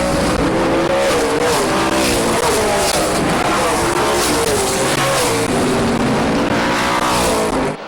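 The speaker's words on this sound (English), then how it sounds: "Jimmy Carter driving the wheels off that car, trying to keep Brandon Short back" Race cars roar around a speedway oval in a continuous, loud wash of engine noise, with pitch rising and falling as the cars lap, and a commentator's voice faintly under the din.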